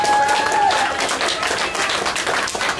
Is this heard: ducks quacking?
no